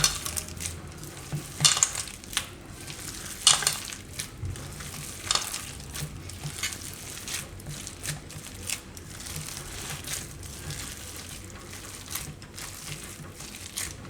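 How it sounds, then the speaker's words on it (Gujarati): A noodle and potato tikki mixture is worked together in uneven bursts of soft squishing, crunching and crinkling. Occasional sharp clicks of utensils break in, and a faint sizzling hiss runs underneath. The sounds are close, fairly quiet and free of speech. "આ રીતે એકદમ મિક્સ કરી લેવું"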